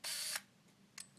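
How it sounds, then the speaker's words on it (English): A Widelux panoramic camera, with a loud mechanical whir from the film wind that lasts about a third of a second, then a short sharp click from the shutter release, heard up close and alone. "Shutter release, wind, which is my biggest complaint. It's very noisy."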